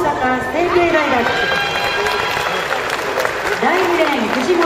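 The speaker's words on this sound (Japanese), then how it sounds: "どうぞ大きな拍手をお願いいたします。" At the 2013 Oda Memorial athletics meet, a stadium crowd applauds as sprinters are introduced for the women's 100 m A final. A broad wash of distant clapping rolls on while an announcer speaks over the public address.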